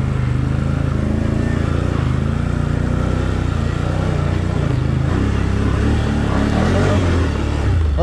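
A Can-Am Outlander ATV engine drones loud and steady on a cross track lap, close by, holding an even mid-range roar with slight revving swells throughout.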